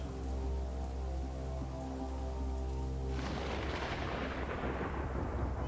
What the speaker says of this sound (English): I never seen a storm like that before.